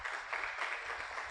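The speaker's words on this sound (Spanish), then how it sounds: "Lo recibimos con un fortísimo aplauso." A church congregation breaks into loud, sustained applause, a dense steady wash of clapping filling the sanctuary.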